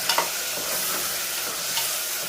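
Vegetable khichdi with cluster beans being stirred in a pan, a steady sizzling hiss broken by a few soft scraping strokes of the spoon, close and alone with no talk.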